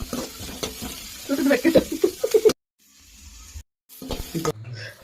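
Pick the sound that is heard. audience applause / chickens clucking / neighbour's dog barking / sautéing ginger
sautéing ginger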